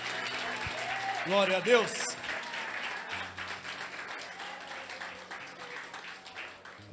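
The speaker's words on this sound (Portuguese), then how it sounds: "Pode aplaudir o Senhor Jesus." Church congregation applauding during a worship service, a steady, fairly soft wash of clapping with a voice calling out briefly over it early on and crowd murmur throughout.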